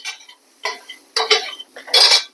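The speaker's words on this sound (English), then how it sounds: "Now we're stir frying them." Bursts of scraping and clinking from carrots being stir-fried in a pan, coming in short separate strokes with pauses between.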